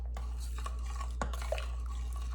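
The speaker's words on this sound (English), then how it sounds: "Get that stirring in there." Soft scraping of a utensil stirring shredded cheddar cheese into a pot of bacon cheeseburger soup, a few faint close scrapes and light clinks over a steady low hum, no talking.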